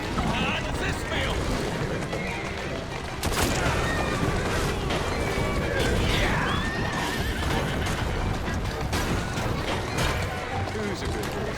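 A horse neighs and its hooves clip-clop while it pulls a carriage through the streets in Assassin's Creed Syndicate, loud and busy with game noise and voices talking over it.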